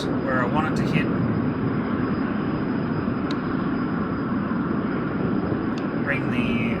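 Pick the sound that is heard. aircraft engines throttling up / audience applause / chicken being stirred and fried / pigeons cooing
aircraft engines throttling up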